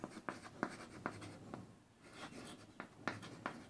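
Pen strokes on paper or a board during a Class 12 maths lesson on determinants, a run of short scratchy bursts of handwriting at steady intervals, close and fairly quiet with no talk.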